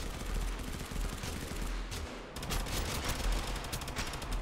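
Rapid gunfire in a Famas shooter video game, dense continuous automatic bursts, loud and close, with a brief dip partway through before the shooting resumes.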